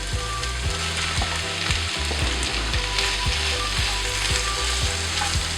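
Prawns hit a pan of sautéed onions and fry in a loud, continuous sizzle, with regular soft thumps of stirring cutting through at a steady rhythm and no talking.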